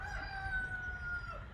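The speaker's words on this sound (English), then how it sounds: "I wanted to mention that I heard a rooster crow, which I haven't heard in a long time." A rooster crowing in the distance, a single drawn-out call held steadily for over a second against a low rumbling background.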